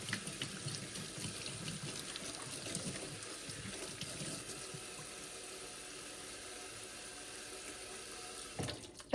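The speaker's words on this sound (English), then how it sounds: "I'm scrubbing my potatoes with my little, veggie scrub." Potatoes get scrubbed with a small vegetable brush under a running kitchen tap, a steady faint hiss of flowing water with soft scraping and splashing throughout.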